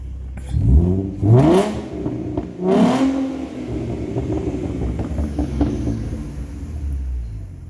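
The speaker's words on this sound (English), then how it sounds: "One more rev before I go." A 2011 Ford Mustang's engine revs up in two or three strong, close bursts with rising pitch, then settles into a steady idle rumble with no one speaking.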